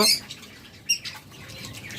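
Budgerigars chirp and squawk in short bursts, with a flutter of wings and a sharp call near the start and middle, fairly close.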